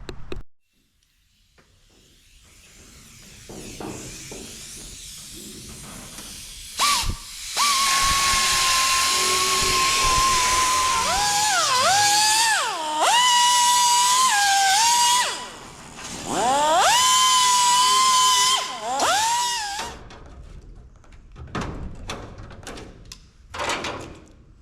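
A power tool trimming a fiberglass cowl hood for a 1967 Chevelle, whining loudly with a high, pitch-shifting tone in several long bursts that rise and dip as it bites, separated by short pauses and clanks.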